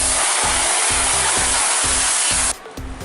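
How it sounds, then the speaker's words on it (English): A hose or power washer sprays water steadily onto a car's paint to rinse off dust and bug residue, a loud continuous hiss over a rhythmic pulsing pump that cuts off abruptly near the end, leaving a quieter rumble. "we need to rinse it off with a hose or a power washer, like that"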